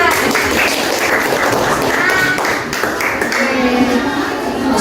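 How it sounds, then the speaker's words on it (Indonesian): Classroom audience in a primary school microteaching lesson claps together, a dense, steady patter of many hands that fades slightly near the end, with a few voices under it. "Beri tepuk tangan."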